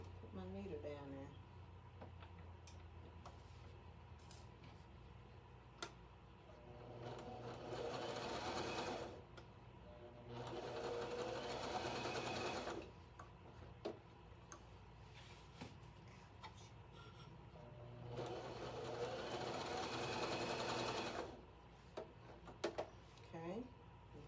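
A sewing machine stitches fabric onto a shirt, running in two long loud bursts of several seconds each with quieter gaps and occasional handling clicks between, while a person talks.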